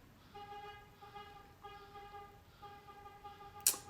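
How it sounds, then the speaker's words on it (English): Amazon delivery truck horn sounding as a series of faint, repeated tonal toots from outside and some distance away, ending in a brief sharper burst. "The Amazon truck is like honking"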